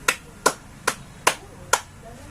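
Five sharp claps from a classroom group, evenly spaced at roughly half-second intervals, crisp and close with short decays and nothing else over them.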